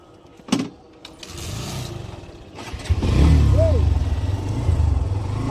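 A motorcycle starts up with a sharp burst, then its engine rises to a steady, loud running drone as it pulls away, with faint voices in the background.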